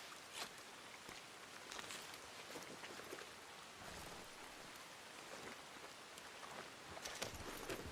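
Steady rain pours down in the Red Dead Online game world, a dense, even hiss of drops on the ground with small scattered patters, faint and constant with no voices over it.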